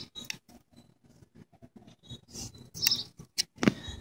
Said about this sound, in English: You're going to start by cutting a point on the end of your straw.